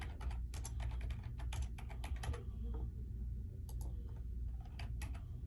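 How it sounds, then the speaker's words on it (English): Clicky keystrokes on a computer keyboard as a mobile phone number is typed into an online form, coming in short irregular bursts with brief pauses, close and fairly quiet over a low steady background hum. "you have to type it in your valid mobile number"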